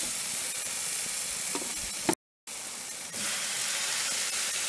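Steak sizzles on an outdoor barbecue in winter, a loud, continuous frying hiss with crackles, briefly cut off by a short silent gap before resuming, with no talking.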